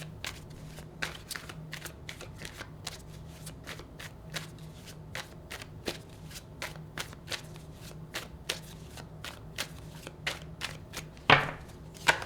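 Tarot deck shuffled and cards pulled, a steady run of crisp card flicks and riffles with a sharper snap near the end, close and alone with no talking.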